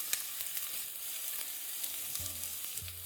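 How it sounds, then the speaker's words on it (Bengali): Chopped ginger and garlic added to cooking onion sizzle and crackle steadily in a hot pan for vegetable soup, close and continuous with a few soft stirring scrapes toward the end. "তারপর আবারও এটাকে ভালো করে ভাজতে থাকুন।"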